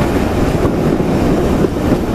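A loco-hauled passenger train running between Oulton Broad North and Somerleyton crosses over a set of points, heard from onboard as a loud, steady rumble and roar with a faint clunk partway through.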